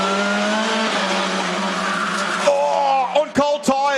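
TCR touring race cars, Hondas among them, battle at The Bend, their engines whining loudly in rising and falling tones before a burst of tyre squeal near the end, with a commentator talking throughout.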